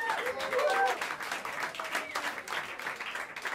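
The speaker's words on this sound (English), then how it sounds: "give him a better round of applause than that" Audience applause in a small New York jazz club, a close, irregular patter of clapping hands from a modest crowd that rises and dips throughout.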